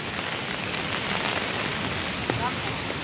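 Steady rain falls outdoors while someone walks through it, a constant soft hiss of drops on surfaces filling the whole stretch with no break.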